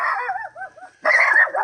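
A dog yips and whines in quick, high, wavering bursts close by, followed by a louder sharp bark-like yelp, all within under two seconds with no talking.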